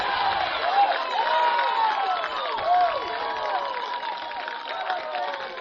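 A baseball crowd at a Mount St. Joe championship game against Earlham cheers and shouts steadily after a runner is thrown out trying to steal, with a sustained roar and a few rising whoops.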